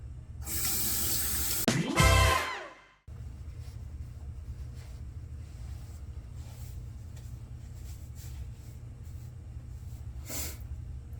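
A bathroom tap runs into a sink at close range for about two seconds while the face is rinsed after a shave, then shuts off, leaving a low steady hum with faint small knocks.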